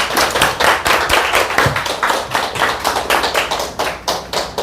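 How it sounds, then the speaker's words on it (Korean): A church gathering's audience gives a warm round of applause to welcome a pastor, many hands clapping in a dense rhythmic burst that stays loud and close throughout, with no talk over it. "한번 우리 모실 때 큰 박수로 환영할게요"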